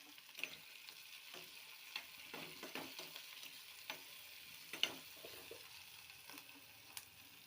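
Tomatoes sautéing in a pan with garlic and ginger give a faint, steady sizzle, with soft stirring scrapes and occasional small clicks against the pan.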